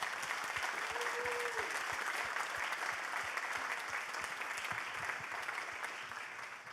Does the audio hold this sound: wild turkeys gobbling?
no